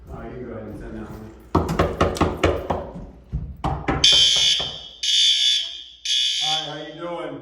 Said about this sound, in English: Just checking your alarms.